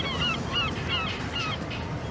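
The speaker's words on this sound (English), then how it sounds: "That was an albatross." An albatross gives four evenly spaced, honking cries over a steady, noisy background, each call short and fairly close.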